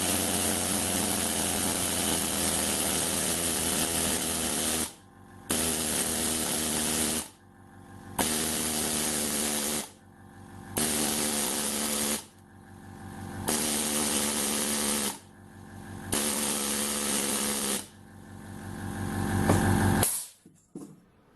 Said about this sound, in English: I'll fire up my air chisel, which is also an air needle descaler.